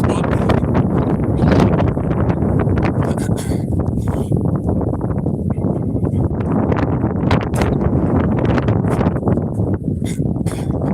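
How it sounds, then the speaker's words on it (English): Strong outdoor wind buffeting the microphone, a constant loud roar and rumble that fills the whole stretch without letting up. "the wind has kicked in, so you probably won't hear anything"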